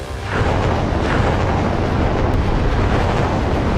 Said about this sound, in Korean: 청룡 7 발사